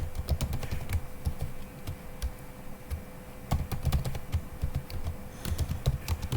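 Computer keyboard typed steadily while code is being written, keystrokes clicking in quick irregular bursts with brief pauses, close and moderately loud throughout.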